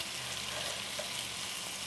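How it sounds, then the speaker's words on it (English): Chicken kabobs fry in a hot pan with a steady, dense sizzle that holds evenly throughout. "It's got some good sizzle in there."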